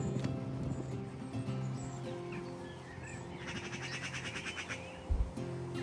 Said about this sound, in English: Birds sound fantastic.